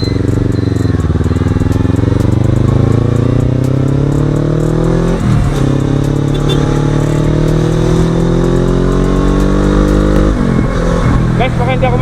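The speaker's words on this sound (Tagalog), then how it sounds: "First time ko magmotor guys, saka first time kong dumaan ng expressway ng nakamotor." A motorcycle engine running loud and close on an expressway, its steady drone rising and falling in pitch through several gear shifts, with a rider talking over the engine noise.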